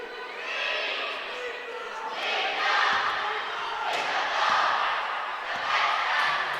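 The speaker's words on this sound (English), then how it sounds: "the Kenmare crowd in full voice here, cheering on their team" Kenmare supporters cheer on their team at a schools cup under-16 girls' basketball final, a broad, sustained roar from a large indoor crowd that swells in waves, with commentary voices talking over it.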